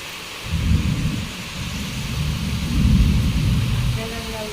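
Heavy rain pours steadily during a thunderstorm, with deep rolling thunder swelling twice beneath the constant hiss of the downpour.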